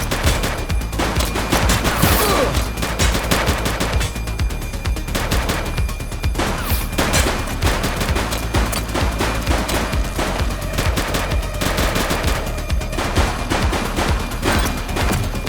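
Loud, sustained gunfire from a police shootout in The Precinct video game, with rapid bursts and single shots stacked densely over a constant wash of action sound across the whole stretch.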